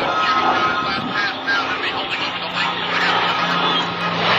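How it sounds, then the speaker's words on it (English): A steady P-51C Mustang propeller engine drones with broad roaring noise at an airshow, fairly loud, with a faint voice mixed in. "Here's the P-51C Mustang."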